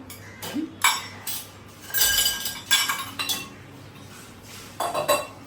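Metal utensils and dishes clink and clatter in repeated bursts as they are put away in a home kitchen, with short pauses between the knocks and no voices.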